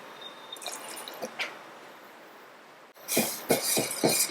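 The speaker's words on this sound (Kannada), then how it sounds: "ಈಗ ಹೆಸರು ಬೇಳೆಗೆ ಎರಡು ಕಪ್ಪಷ್ಟು ನೀರನ್ನು ಸೇರಿಸ್ತಿದ್ದೀನಿ" Water goes into a pot of soaked moong dal in a kitchen. A few faint splashes come first, then louder sloshing gushes in quick pulses near the end, with no speech.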